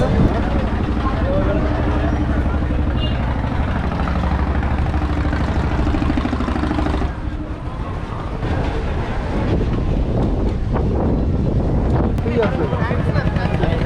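Wooden motor trawlers loaded with passengers cross wavy river water at Rupsa ghat in Khulna; a loud, low engine drone runs throughout with wind buffeting the microphone and a brief dip midway.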